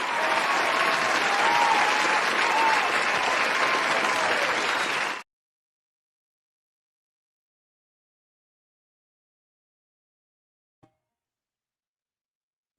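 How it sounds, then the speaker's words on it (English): A live radio studio audience giving a round of applause, dense clapping for about five seconds that then cuts off abruptly into near silence. "let me give him a round of applause"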